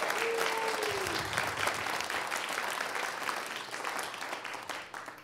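A community meeting crowd gives a round of applause for the transition team, loud sustained clapping from many people that gradually thins and fades, with a brief voice or tone near the start.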